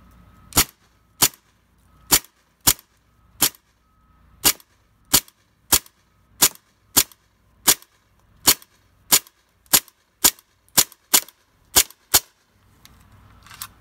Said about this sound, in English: Right to the end of the CO2. Here we go. We're taking some shots.